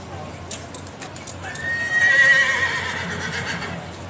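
A bay horse of the King's Troop Royal Horse Artillery arriving at Horse Guards gives a loud, drawn-out neigh over a steady clip-clop of hooves on hard ground, with faint crowd voices behind.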